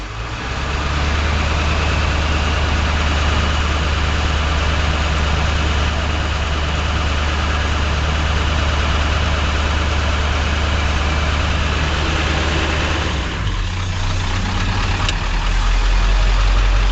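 A Ford Powerstroke diesel pickup runs at idle with its exhaust brake valve engaged, giving a loud, steady, low rumble that holds without a break, then shifts briefly in tone near the end.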